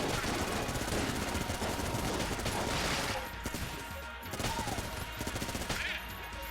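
A Vulcan cannon in the video game Enter the Gungeon fires a loud, continuous rapid stream of shots for about three seconds, then weaker sporadic firing follows.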